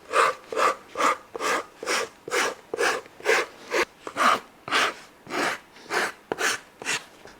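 A rasp files the toe of a wooden bespoke shoe last for a round-toe shape, in steady rhythmic strokes, about a dozen even back-and-forth scrapes, close and clear with no talking.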